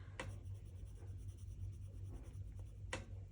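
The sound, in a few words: pencil writing on paper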